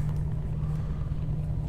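A truck engine in Euro Truck Simulator 2 hums as a low, steady, quiet drone with no talking.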